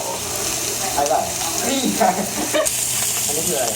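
Bacon sizzles on a Korean barbecue grill at a restaurant in Busan, a steady close crackling hiss with occasional brighter pops, while voices murmur faintly in the background.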